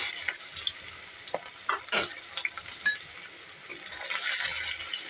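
Chopped onion frying in oil with black cumin, a continuous close sizzle with scattered spatula stirs and small pops throughout.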